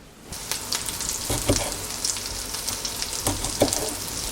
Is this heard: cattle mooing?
no